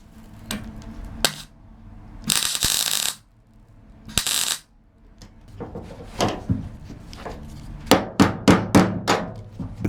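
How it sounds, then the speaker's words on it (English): Hammer tapping a welded steel patch panel into the contours of a VW Beetle body, sharp close metallic strikes in irregular bursts and quick clusters, with a couple of longer harsh grinding or rasping spells between. "it can be gently persuaded with a hammer to sit better into the contours"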